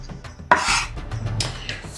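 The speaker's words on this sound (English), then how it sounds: "garlic here, rough chop" Knife roughly chopping garlic on a board for a home tandoori chicken dish, a sharp cut followed by a few scraping, rubbing strokes up close.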